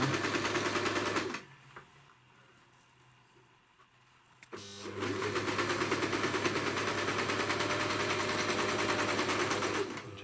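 An overlocker stitching a trouser pocket, whirring in two steady close bursts separated by a short pause, loud and mechanical with no talking.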